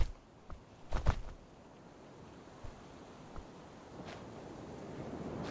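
Wind sweeps over a beach in the Survival: Fountain of Youth game, a low steady rush with faint surf, a couple of brief gusty knocks early, and no talking.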